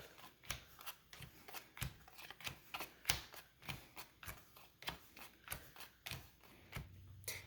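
Quiet, close-up series of quick card flicks and snaps as playing cards are dealt for Cribbage, irregular but steady, each a short crisp slap, with no voices.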